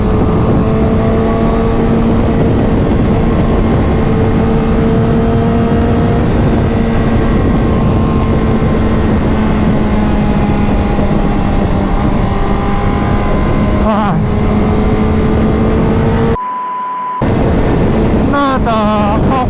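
Honda CBR1000RR motorcycle ridden at midday in near 40-degree heat: a loud, steady engine drone mixed with rushing wind noise, the pitch shifting briefly near the end and cutting out for a moment.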